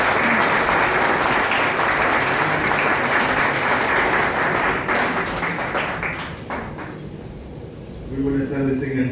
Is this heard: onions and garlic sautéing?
no